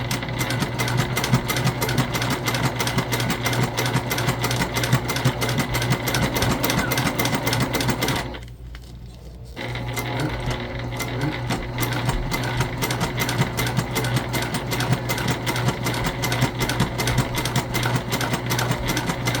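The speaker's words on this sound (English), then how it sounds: "I really struggle with sewing through double-sided tape" A sewing machine stitching a bag through double-sided tape, its rapid steady mechanical chatter running close and loud, with one brief pause midway before the stitching resumes.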